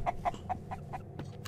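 Chickens clucking in the survival video game Mist Survival, a rapid run of about five short, sharp clucks followed by a few softer calls, fairly close and clear with no talking over them.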